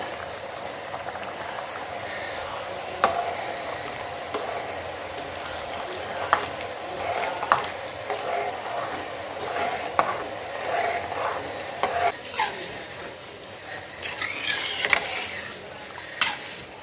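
Gram flour batter being stirred into a white chickpea curry in a pan, a steady bubbling simmer with scattered spoon clicks and scrapes against the metal, fairly close and continuous with no talk.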